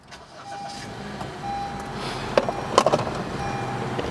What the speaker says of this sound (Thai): ฟังเสียงเครื่องก่อนนะครับ ว่ารถคันนี้โอเคไหมนะครับ